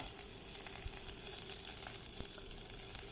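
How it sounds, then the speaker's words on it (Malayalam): Chopped onion dropped into hot oil with dried chillies and curry leaves, giving a dense, steady sizzle and frying hiss close by, with no talking. "ഒരു ഇടത്തരം സവാളയുടെ പകുതി ചെറുതായി അരിഞ്ഞത് അതും കൂടെ ചേർക്കുക"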